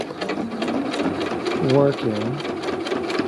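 Sewing machine stitching thick vinyl with ball fringe trim for a golf cart sun visor, running steadily and close throughout while someone talks over it.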